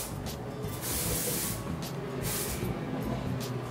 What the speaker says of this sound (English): Then I'm going to hairspray it again.